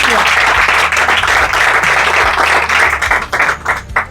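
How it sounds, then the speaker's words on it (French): An audience at a gathering of married couples applauds a couple, with loud, dense clapping that holds steady, then thins into scattered individual claps near the end, with some voices mixed in. "On applaudit pour le couple."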